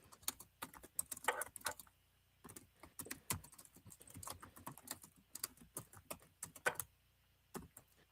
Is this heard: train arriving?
no